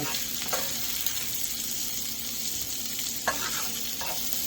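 Steady sizzling of peppers softening in a pan for pizza topping, with occasional stirring scrapes, continuous and close.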